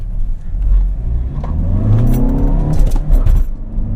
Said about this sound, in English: Second gear scratch.